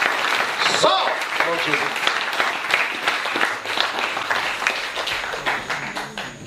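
Congregation clapping in acclaim to the Lord during a healing and deliverance service in Taravao, French Polynesia, steady dense applause continuing under a preacher's loud voice.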